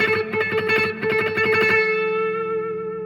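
A distorted electric guitar strums a quick blues chord pattern, then the final chord rings out with a lingering reverberant tail.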